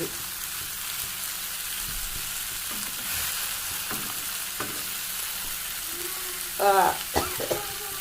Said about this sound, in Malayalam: സ്രാവ് പൊരിഞ്ഞ് കിട്ടട്ടെ ഒന്ന് പൊരിയട്ടെ സ്രാവ്